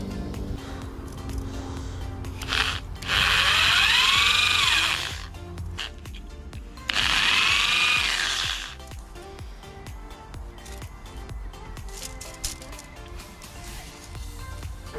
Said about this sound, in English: it's quite easy to drill them out